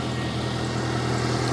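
A 1997 Nissan Altima engine, cold but freshly repaired fuel line, idles with a steady, smooth low hum that runs unbroken and fairly loud throughout, with no sputter or misfire.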